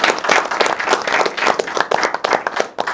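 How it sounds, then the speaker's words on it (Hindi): An audience at a cricket discussion panel show claps in a short, lively burst, many hands beating unevenly with a pulsing rhythm. "एक बार खुद के लिए तालियां बजा दो यार"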